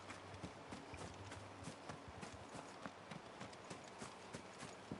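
Horse hooves clip-clop in a video game, a steady, fairly loud run of rhythmic hoofbeats as the horse heads back to the stables, with no talking.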